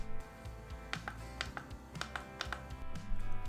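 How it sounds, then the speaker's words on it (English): Buttons on an Emotiva RMC-1L remote control pressed one after another, giving several crisp, close clicks at an uneven pace over a low background hum. "Unfortunately, the buttons are not backlit and they do have an audible clicking sound when pressed."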